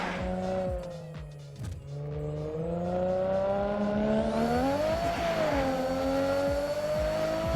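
Car engines rev with rising harmonic whine and tire squeal in the Night Runners nighttime drift racing video game, a steady loud drone that climbs in pitch near the end.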